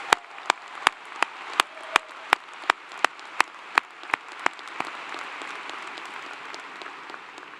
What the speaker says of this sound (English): I think you all deserve a very loud round of applause.